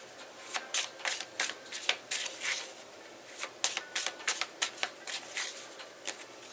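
Tarot cards are shuffled by hand in a quiet room, a quick run of crisp papery riffles and slaps in uneven bursts, close and fairly soft, with no one talking.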